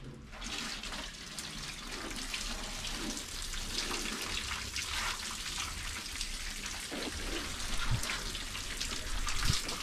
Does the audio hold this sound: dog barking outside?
no